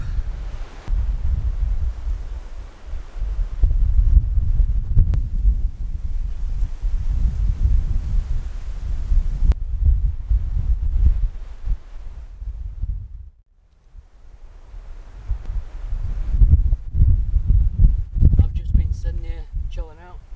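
Wind at an exposed mountain campsite during hammock camping buffets the microphone in a loud, continuous low rumble with gusts that swell and ease, including one brief lull before it roars back.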